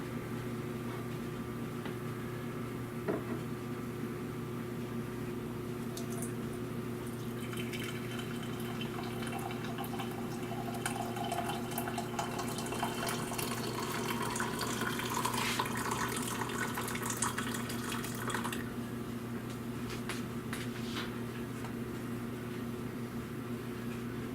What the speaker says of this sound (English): We just pour it into our coffee cups.